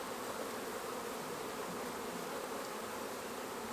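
Feral honeybees buzzing steadily during extraction from a hollow, a dense continuous drone close by with no pauses and no voices.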